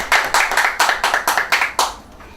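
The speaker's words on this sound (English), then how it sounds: "Give him a round of applause" A small group claps for a graduating student at a school ceremony, about nine close, distinct rhythmic hand claps in an even beat, then stopping.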